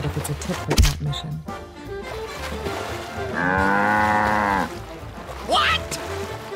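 A cow moos once in a long, drawn-out low call with a clear harmonic tone, amid some background thumps and noise.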